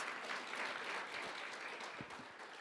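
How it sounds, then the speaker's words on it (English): An audience at a community economic mobility forum on energy and climate resilience claps in steady, dense applause, faint and distant, with a murmur of voices underneath. "Let's another round of applause."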